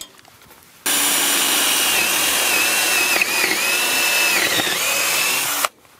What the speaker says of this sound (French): je vais déjà pré-percer les tasseaux avec une mèche à bois au diamètre des chevilles